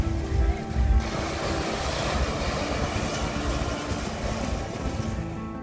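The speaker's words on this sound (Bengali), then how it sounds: "এবার চলে আসুন আঞ্জুনা বিচ। এটি পাথুরে বিচ," Sea waves at Anjuna beach, a rocky beach in Goa, a steady broadband roar of surf with a louder surge near the start, heard alone without talk.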